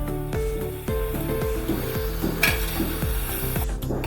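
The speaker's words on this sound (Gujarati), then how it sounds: "મસાલાને સારી રીતે મિક્સ કરી લઈશું" Jaggery being stirred into a methi muthiya masala mixture in a hot pan, with steady scraping strokes roughly every half second over a continuous close sizzle.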